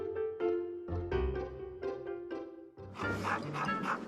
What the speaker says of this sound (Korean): 그렇다면 차에서 짖고 흥분하는 로이에겐 어떤 훈련이 필요한 걸까요?